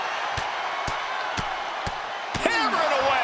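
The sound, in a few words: wrestling video game knockdown slam impact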